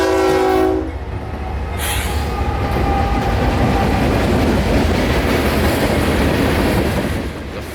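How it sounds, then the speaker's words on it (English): A train horn blares loudly for a moment, then a heavy CSX mixed freight train rumbles past close by with steady rolling clatter that carries on to the end. "The first train we sprung upon this morning was CSX train Q452, a mixed freight train"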